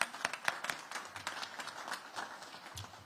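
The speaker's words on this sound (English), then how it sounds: "Let's give him and his team another round of applause" Scattered clapping from a small crowd at an outdoor back-to-school event, distinct individual claps at an uneven rhythm, fairly quiet and thin, with a low rumble of background activity underneath.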